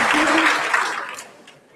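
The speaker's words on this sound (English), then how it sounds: "I think we can give them another round of applause." Brief applause for the morning speakers at the International Barcode of Life Conference, a burst of conference-audience clapping that quickly tapers and dies away within two seconds.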